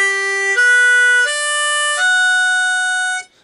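Spiral-tuned harmonica playing draw notes on holes 2, 3, 4 and 5, four clear sustained tones stepping upward one after another, loud and close with no other sound.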